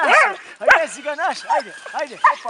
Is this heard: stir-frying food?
no